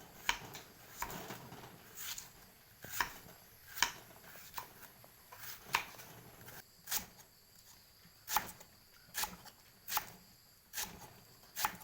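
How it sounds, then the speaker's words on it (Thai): Knife chops cutting through banana shoots fall in a regular rhythm, about one per second, fairly faint against a quiet background with no talk. "หั่นให้เป็นชิ้นเล็ก ๆนะครับ"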